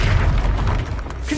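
Short, heavy boom of the Confringo explosive spell in a Harry Potter video game, a dense low rumbling blast that fills the moment and fades slightly.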